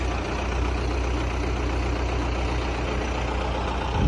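A tractor lifts a Karakurt No Till 3.8 seed drill with its hydraulics, giving a steady, close engine drone at an even, unbroken level throughout, with no talking.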